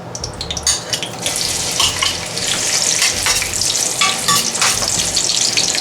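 Half a large onion sizzles loudly in hot oil over high heat, a steady crackling hiss with a few splashy watery bursts throughout, no voices.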